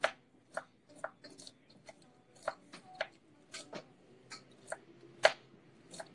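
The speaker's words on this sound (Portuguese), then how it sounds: "Depois vem picando em tirinhas" Knife chopping food into thin strips on a board in a home kitchen, a quick irregular series of sharp close taps alone without talk.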